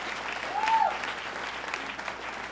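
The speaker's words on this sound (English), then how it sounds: "Let's give her a round of applause and thank her very much" Audience applause at a state government announcement for a new Women's Building, a steady wash of clapping from a crowd that rises slightly near the start and then holds at an even level throughout.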